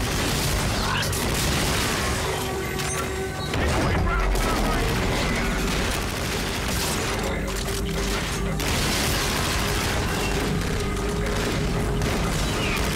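Rapid bursts of gunfire aimed at robot enemies in the futuristic shooter Call of Duty: Infinite Warfare, dense and continuous over clanking mechanical game effects and a steady loud mix.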